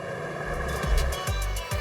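Go-kart motors at a seaside kart track by a beach whine and buzz steadily, with several louder low bursts as karts pass close by. No one speaks.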